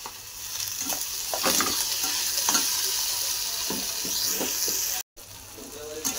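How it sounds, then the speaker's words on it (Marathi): Tomatoes fry with browned onions in a pan, a close, constant sizzle with the clack of a spoon stirring at intervals. "कांदा आता आपला लाल झाला, मी टमाटे टाकून घेते। टमाटे पण चांगले तळून घेणार आहेत।"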